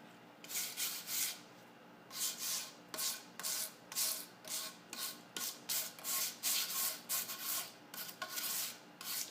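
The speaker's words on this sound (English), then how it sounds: "So I'm just taking a wire brush and lightly brushing" A wire brush lightly scrubbing maple wood with quick, rhythmic back-and-forth strokes, each a bright rasping swish, close and fairly quiet, repeating in short bursts with a few brief pauses.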